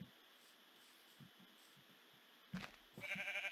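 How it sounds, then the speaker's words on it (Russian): Sheep in the Minecraft video game bleat in short faint cries against a quiet, low background hum, followed by a louder burst of game sound near the end. "Я вижу овец."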